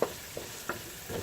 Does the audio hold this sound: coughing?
no